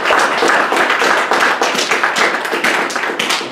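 Steady applause from a crowd, dense clapping that stays loud and even throughout without voices over it.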